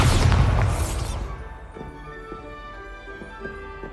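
Bombarda spell detonating in Hogwarts Legacy, a loud close booming explosion with crackling debris that quickly decays into a quieter tonal hum and faint chiming.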